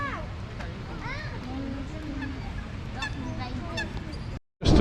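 Geese honk repeatedly in St James's Park, London, several calls close and clear over park crowd noise with children's voices, ending in a brief cut.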